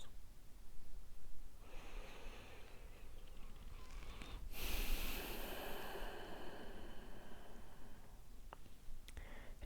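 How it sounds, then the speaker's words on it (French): A person breathes slowly during a mindfulness exercise, long soft inhales and exhales as airy, noisy hushes, one sharper breath in the middle, quiet and close with no speech. "Une dernière respiration dans la pleine conscience."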